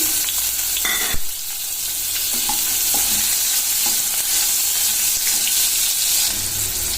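Cumin, mustard seeds and chopped onion frying in hot oil in a pan, a loud continuous sizzle with stirring scrapes and small pops, close up and without speech.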